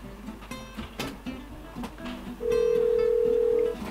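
A phone rings with a steady electronic tone that sounds for about a second, clear and prominent over a busy indoor background of clatter and low noise.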